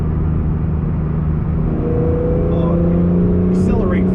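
An Acura NSX accelerates hard through an aggressive turn, its engine droning steadily with a rising whine near the end, while a person talks over it from inside the cabin.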